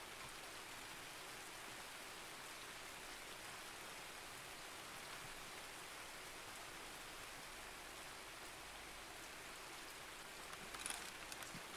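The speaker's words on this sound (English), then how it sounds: "Oh, rain. Everyone loves the rain." Steady rain in the video game Escape from Tarkov, a faint, even hiss of falling water that runs unbroken with no voices over it.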